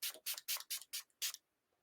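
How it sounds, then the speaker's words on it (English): Six quick hissing bursts from a handheld spray bottle misting serum onto a face, evenly spaced and close, then quiet. "I'm just going to give myself a little spray."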